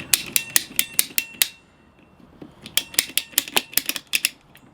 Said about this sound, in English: I'm going to use my PVC cutters because these are nice and straight